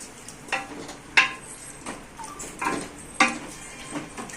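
A metal lid clatters onto a pot of chicken biryani with egg and onion, giving a few close, sharp clinks and taps at irregular intervals in a quiet kitchen.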